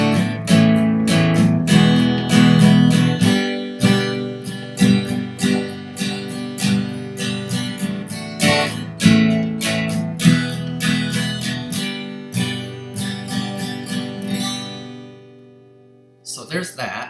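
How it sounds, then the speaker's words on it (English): Guitar chords are strummed in a pattern with the upstrokes emphasised, giving a bright, steady rhythm of crisp strokes played close for about fifteen seconds before the final chord fades and a short tail follows. "But if you emphasize the upstrokes a little bit, it sounds like this."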